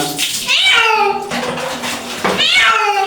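A cat meows loudly and plaintively during a bath, giving two long drawn-out cries close by with splashing water underneath.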